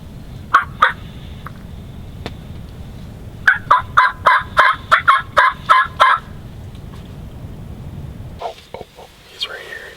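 Wild turkeys in Nebraska gobble loudly and close, first two short calls then a rapid run of about eight gobbles in a row, with a brief rustle and low sounds near the end.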